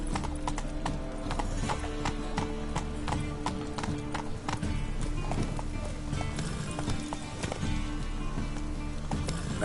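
Horse hooves gallop at a steady, rapid clip-clop in The Witcher 3 video game, loud and close, with dense continuous pounding and occasional game sounds over a bed of background music.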